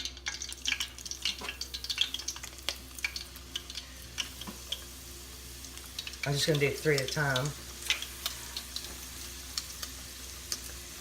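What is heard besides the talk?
beef and pork egg rolls frying in oil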